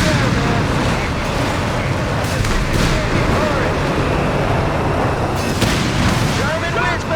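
Battle sounds from the Company of Heroes 3 video game in a 4v4 match, dense, loud and continuous gunfire, explosions and booms layered over one another, with in-game unit voice chatter mixed in.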